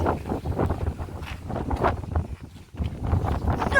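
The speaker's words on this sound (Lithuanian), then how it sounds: "Mūsų vėjas pučia." Steady outdoor wind buffeting the microphone, a broad rushing roar with gusts that swell and ease, briefly dropping near the end before picking up again.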